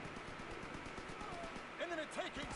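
Rapid machine-gun fire in a WWII multiplayer video game, fast repeated bursts at moderate distance running throughout, with players talking over it.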